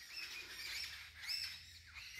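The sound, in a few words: birds calling in forest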